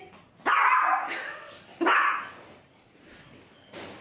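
A dog barks twice, loud and close, with a pause between barks, then a fainter sound near the end.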